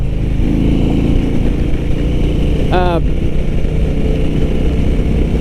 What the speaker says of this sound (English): it is the biggest motorcycle engine that's ever been produced